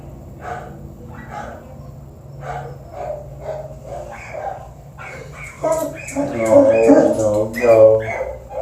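A dog named Wrigley barks repeatedly at the vet, a series of short spaced yaps, growing louder and busier toward the end, with faint voices mixed in.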